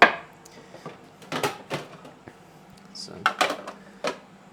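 A knife chops an onion on a board in a home kitchen, a few separate sharp knocks that come in small clusters, with brief speech.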